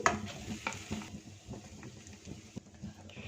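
Mashed potatoes are being stirred into a spiced mixture in a pan, producing faint, uneven scraping and soft squelching. A light sizzle runs underneath, with an occasional sharper tap against the pan.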